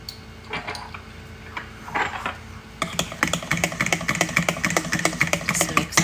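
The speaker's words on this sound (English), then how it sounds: "Just mix that all up." Banana bread batter with vanilla is mixed in a bowl, a few scattered knocks giving way to a quick, steady run of clicking utensil strokes against the bowl.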